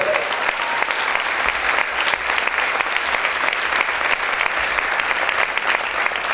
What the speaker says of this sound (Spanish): Aplaude fuerte al Rey.